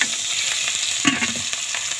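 Turmeric mixture with salt frying in hot oil in a wok, loud continuous sizzling close up with scraping stirs and a few spatter pops, no voices.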